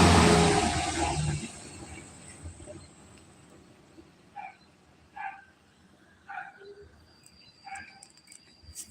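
A dog barks in short single bursts at a distance, four or five spaced yaps over steady outdoor background noise after a loud broadband rush at the start.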